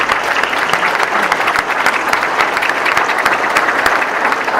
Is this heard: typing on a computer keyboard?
no